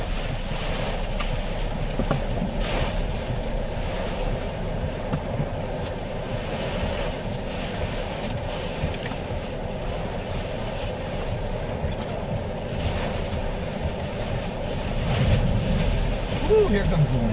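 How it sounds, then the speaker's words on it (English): Strong wind roars during a Missouri tornado outbreak, a dense, continuous rumbling rush that swells louder toward the end, with a voice faintly mixed in. "here comes the wind"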